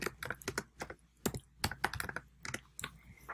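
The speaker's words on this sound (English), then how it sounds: "All you have to do is type your answer." Typing on a computer keyboard: quick bursts of sharp, close key clicks with short pauses between groups, fairly quiet, with no voices.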